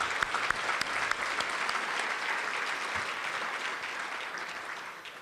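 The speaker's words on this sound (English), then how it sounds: "Let's give them a warm round of applause." Warm applause from an audience at a county government event, continuous crisp clapping from many hands at a steady level for several seconds.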